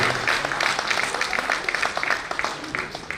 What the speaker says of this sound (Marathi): एकदा जोरदार टाळ्या सर्व गुरुजनांसाठी होऊ दे